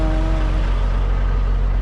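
Traffic on Highway 16 rolls past steadily, cars and trucks producing a loud, continuous roadside rumble with a tonal whine near the start and no voices over it.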